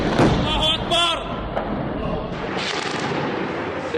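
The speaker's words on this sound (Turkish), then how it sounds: "Bu semtte yaşayanlar bugüne kadarki en ağır top ateşine maruz kaldıklarını söylüyor." Heavy artillery bombardment in the Syrian city of Homs, with loud booming impacts early on and continuing rumble and crackle, while a voice is heard over the noise.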